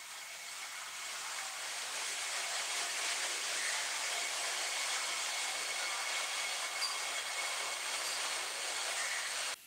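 A train runs steadily along the rails, producing a continuous broadband rushing rumble with a faint hiss, loud and unbroken throughout with no voices.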